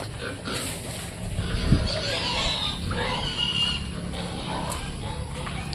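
Pigs on a farm oinking and grunting at feeding time, a steady jumble of snorts and squeals from several animals at close range, continuous throughout.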